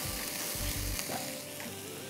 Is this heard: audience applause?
no